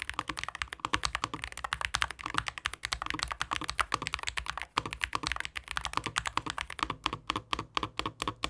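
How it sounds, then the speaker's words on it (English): Rapid, steady typing on a Hall effect mechanical keyboard with five layers of sound dampening, heard close up with no voices. The keystrokes are soft and muted but crisp, and the pace stays even throughout. "This is one of the better Hall effect keyboards I've heard, and it feels really good to type on too."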